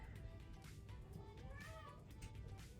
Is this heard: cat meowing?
yes